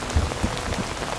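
Steady rain falls on surfaces in an audio drama scene, a dense, even patter of drops close by with no voices over it.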